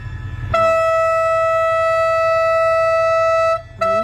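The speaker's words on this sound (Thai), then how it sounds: "นี่เป็นไงเล่าขบวนรถเร็วที่หนึ่งส่วนสอง จากสถานียุทธยานะ ไปครับ" A Thai rapid train at Ayutthaya station sounds a long, loud, steady horn blast, held for about three seconds before cutting off and restarting briefly, over a low rumble of rolling wagons.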